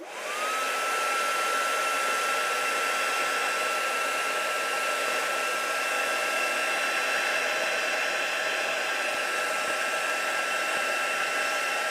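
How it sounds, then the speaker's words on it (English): Heat gun blowing over embossing powder on a stamped paper image, a loud steady whooshing hum with a constant whine that runs unbroken for about twelve seconds, close to the listener. "And I'm going to heat emboss it."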